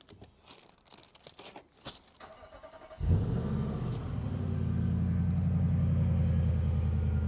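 After some rustling and handling noises, a Nissan Patrol Y62 SUV engine turns over and settles into a deep, rumbling idle with a throaty exhaust note.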